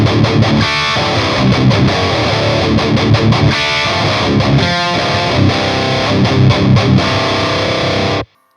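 An ESP LTD Phoenix Black Metal guitar with a Fishman Fluence modern bridge pickup on its active voicing, tuned to drop C, plays loud, heavily distorted riffs with chugging palm-muted bursts, dense and close, then cuts off abruptly.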